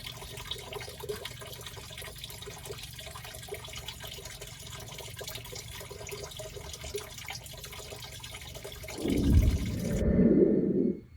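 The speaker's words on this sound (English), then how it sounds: "You can see the water is draining out." Water drains from the drain valve of a Truma water heater on a Coachmen Nova 20C RV being winterized, a steady low hiss that surges louder near the end.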